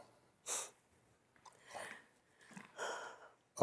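A single sharp sneeze near the start, followed by a few soft snorting, breathing sounds in a quiet room.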